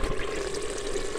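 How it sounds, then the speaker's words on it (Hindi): Water from boiled potatoes pours off steadily into a sink in a home kitchen, a close, continuous splashing rush that lasts throughout with no talking. "इसका पानी हम निकाल लेंगे पहले।"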